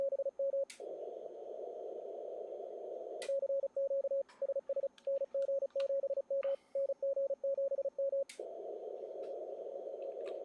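Morse code CW signals on a ham radio band during the ARRL Sweepstakes contest: a steady loud sidetone tone keyed in rapid dits and dahs, broken into bursts of sent characters with a few brief clicks, no voices.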